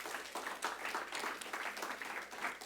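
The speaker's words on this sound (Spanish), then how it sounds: "le dan una ofrenda de palmas al Rey" A church congregation gives a brief round of applause, quick and uneven clapping heard at a moderate distance, with no voices.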